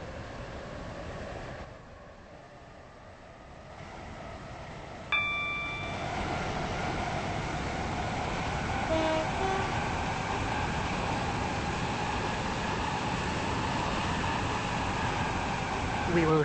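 Steady train running rumble from a Stepford Connect service in the Roblox game Stepford County Railway, approaching Stepford Victoria, continuous and fairly loud with a short chime partway through and an announcement voice over it.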